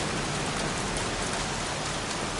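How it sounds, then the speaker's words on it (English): Heavy rain falls in the Heavy Rain video game, a thick unbroken wash of drops hissing evenly across the whole span, loud and close with nothing else standing out. "Goddamn rain. Soaking wet."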